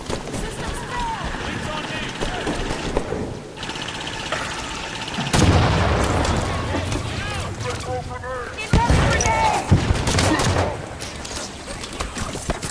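Turret gunfire in the Halo 5 campaign, with bursts of rapid automatic fire and blasts loud in the foreground, mixed with game effects and voices talking.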